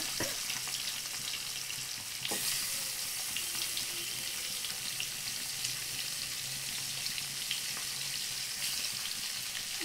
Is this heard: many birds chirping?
no